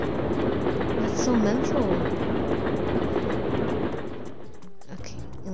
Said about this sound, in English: In case the train is coming this way.